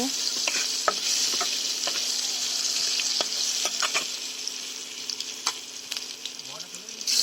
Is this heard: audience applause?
no